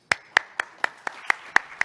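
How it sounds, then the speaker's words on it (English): Applause at a display-industry conference opening ceremony comes through as about eight crisp, evenly spaced hand claps, close and fairly loud, with no crowd roar behind them. "Let's welcome him with a warm round of applause."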